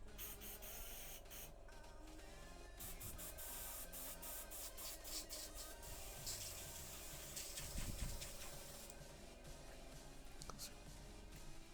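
An airbrush fed by a compressor sprays during cleaning, a faint continuous hiss over a low steady compressor hum, with light handling taps and scrapes mixed in.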